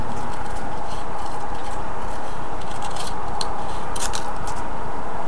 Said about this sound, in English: So let me just cut this real quick.